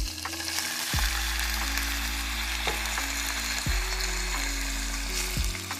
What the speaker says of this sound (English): we're going to go ahead and give that a good mix